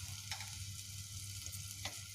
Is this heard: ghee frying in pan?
yes